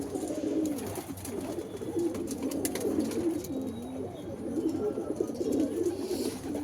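A pigeon coos close by in low, rolling, repeated calls that run throughout against faint background hiss, with no talk.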